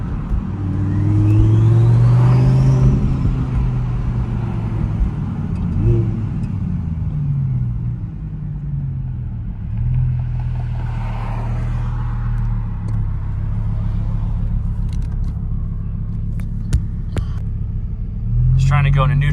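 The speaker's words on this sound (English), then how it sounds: "this thing's so obnoxiously loud with that whistle" A twin-turbo Audi R8's engine rumbles loudly up close, with a rising turbo whistle over the revs early on; a voice talks over it.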